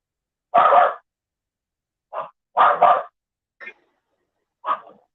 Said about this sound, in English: sorry about the dogs, man.